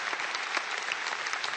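A convention crowd claps steadily and densely in a short, even burst with no voices over it.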